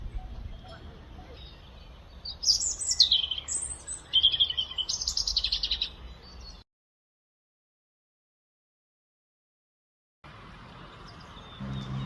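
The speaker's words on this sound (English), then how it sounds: "We could hear songbirds pretty constantly through the day" Songbirds sing along the Camino de Santiago trail in Spain, a mix of bright chirps and warbling phrases over a low outdoor rumble, clustered in the first six seconds, then a gap of silence before the ambience returns more faintly.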